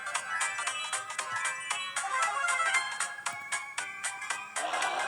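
A bright electronic ringtone-like chime repeats in quick rhythmic pulses during Brawl Stars gameplay on a phone, loud and continuous for several seconds with no talking.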